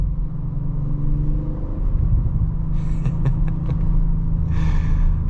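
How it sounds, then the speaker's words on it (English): Engine of a 2023 Audi RS 5 Sportback rumbling low and steady while driving, with a few faint exhaust blips and crackles popping in partway through, no talking. "this vehicle does sound very good. Subtle sort of blips from the exhaust too when you get on and off the throttle"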